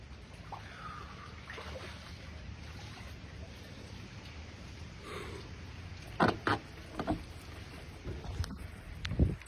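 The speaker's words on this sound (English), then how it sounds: "Let me just get out of the water real quick." Water splashing as a person climbs out of cold water, with a few close splashes and sloshes in the last few seconds after a quiet, faint stretch of ambient noise.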